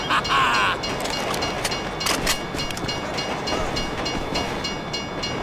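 A train passes in the video game GTA V, giving a steady rumbling, rattling roar at moderate volume, with a brief brighter tone at the start.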